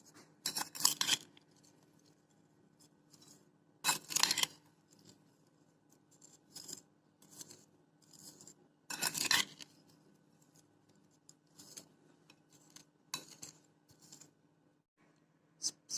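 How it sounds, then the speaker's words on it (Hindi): Lemon pieces tossed with salt in a bowl for pickle, giving bursts of wet rustling and scraping separated by quiet gaps, close and fairly soft, no voices. "अब इसको हम अच्छे से मिक्स कर देंगे"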